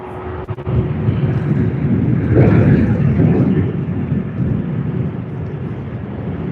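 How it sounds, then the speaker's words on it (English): A jet airliner's engines spool up at Sydney Airport during the early morning peak, a loud, steady low roar and rumble that swells and holds with no voices over it. "Can you hear the engine spool up?"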